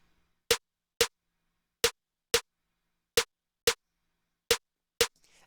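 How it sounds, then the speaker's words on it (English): A Latin trap-style snare layer plays alone: eight crisp, dry hits in a syncopated, uneven reggaeton-style rhythm, each sharp and quickly cut off. "That's more like a kind of like a Latin trap type of snare"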